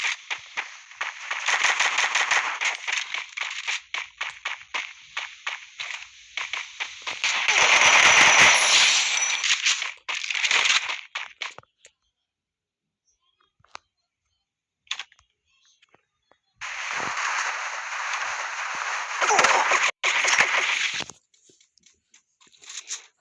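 Rapid automatic gunfire from the mobile shooter game Free Fire, loud and continuous in long bursts separated by brief silent gaps, with no talking over it.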